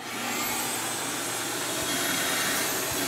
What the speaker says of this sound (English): That's the Cox vacuum hose reel hooked up to the Ridgid Portable Vac.